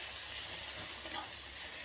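Green chillies and onion fry in a pan, an even, close, continuous sizzling hiss lasting a brief moment without voices.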